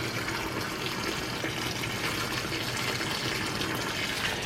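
Water pours steadily into a potted Gerber daisy while plants are watered, a continuous splashing gush with no talking heard.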